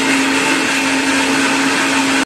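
Electric grinder whirring as it grinds spices, a loud continuous high-speed motor whine held steady throughout before cutting off abruptly at the end.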